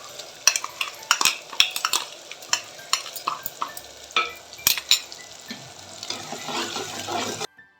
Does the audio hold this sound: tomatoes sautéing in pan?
yes